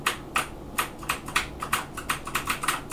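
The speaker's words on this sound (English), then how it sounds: "Right, I'm pushing any key." Keys tapped on a Sinclair ZX Spectrum home computer keyboard, about a dozen light plastic clicks in an uneven, hurried rhythm, close and alone.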